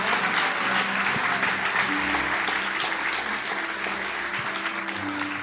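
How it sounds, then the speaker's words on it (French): An audience in a church gathering applauds in praise of the Lord, a steady, dense round of clapping from many hands throughout, close and fairly loud. "Je pense qu'on peut acclamer le Seigneur."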